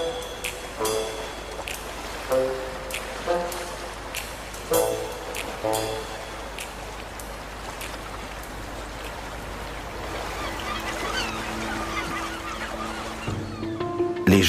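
Young gulls calling for food, a string of harsh, repeated squawking cries at close range, arriving in irregular bursts over a background wash of water-like noise.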